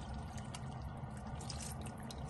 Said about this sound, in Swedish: Och nu är dags att gå in med oxfond och vatten